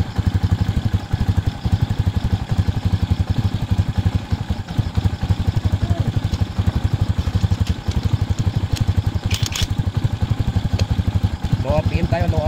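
A Rusi Macho 175 motorcycle engine idles steadily at low RPM, loud and close, with an even rapid putter and faint mechanical clatter throughout. A voice talks briefly over it.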